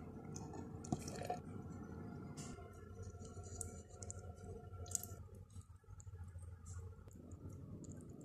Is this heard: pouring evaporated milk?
yes